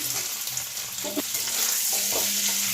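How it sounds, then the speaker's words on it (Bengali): Steady, close sizzling of duck eggs frying lightly in a pan with chilli powder, with a few soft stirring scrapes and no talking. "একটু হালকা করে ভেজে নিই"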